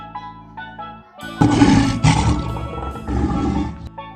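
A lion roars close by, starting with low grunts and swelling into a loud, rough roar that holds for a few seconds before trailing off.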